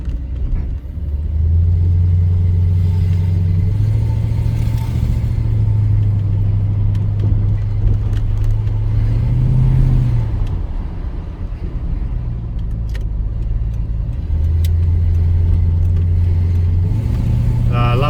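A 1991 Jaguar XJS fitted with a V8 engine drives along. Its steady low rumble rises and falls with gear changes and throttle, heard from inside the car, close and continuous.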